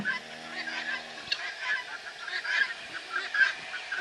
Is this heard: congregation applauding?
no